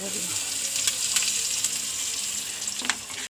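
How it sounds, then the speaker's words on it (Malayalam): Mustard seeds crackle and sizzle in hot oil in a pan, a steady bright hiss that stops abruptly at the end, with no talk over it. "എണ്ണ ഒഴിക്കാം എണ്ണ കാഞ്ഞു കടുകിടുന്നു"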